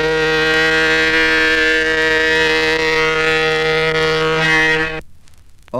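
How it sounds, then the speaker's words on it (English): The air whistle of the Lamport and Holt cargo motor ship Ronsard sounds one long, loud, steady blast of about five seconds, ending abruptly into near silence. "Their cargo motor ship, Ronsard, carries an air whistle which sounds like this."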